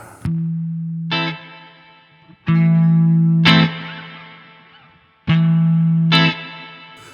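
Guitar played through the spring reverb of a Nux Verb Core Deluxe pedal: three sustained notes, each struck cleanly and ringing out into a bright, springy reverb tail.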